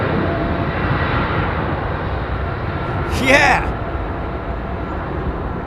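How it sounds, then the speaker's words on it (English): Airliner engines spooling up at London Heathrow Airport, a broad steady roar heard from a distance, with a brief spoken word partway through. "Almost like a triple spool up, if you see what I mean"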